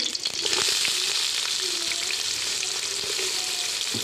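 Onions sizzling with whole spices and bay leaves in a rice cooker while beef curry is being made, a steady, close, continuous hiss of frying with faint stirring clicks.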